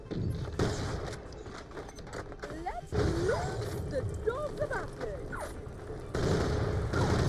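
Non-elemental gun firing in Borderlands The Pre-Sequel, bursts of shots mixed with game effects and voices, busy and fairly loud with a steady game backdrop.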